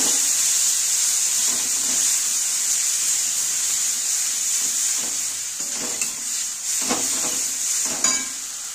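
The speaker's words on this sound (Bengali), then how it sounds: "এবার দেবো লবণ, দেবো হলুদ গুঁড়ো। এবার ভালো করে কষিয়ে নেব।" Spices with salt and turmeric powder sautéing in a pan with mutton fat for cholar ghugni, a steady bright sizzle with occasional stirring scrapes near the end.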